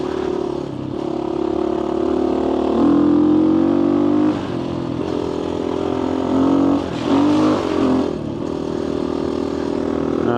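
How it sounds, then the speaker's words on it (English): Motorcycle engine pulling hard as the throttle opens while riding along a smoother left side of a flatland road, a loud steady drone rising in pitch with surges around the third and seventh seconds, no talk. "Bike sounds so nice when you open it up."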